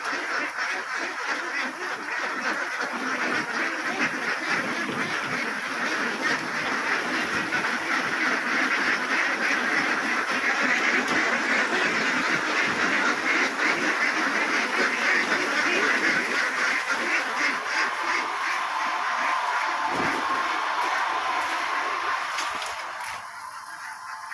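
A flock of ducks quacks loudly and steadily in a rural yard among mango trees, with native chickens nearby. The dense chorus runs close and continuous, with no voices over it.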